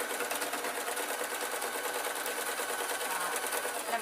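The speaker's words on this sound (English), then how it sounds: "let me just finish sewing up that hole" A sewing machine stitches through a rag rug, its needle running in a fast, steady, continuous rhythm up close for the whole stretch, with no talk over it.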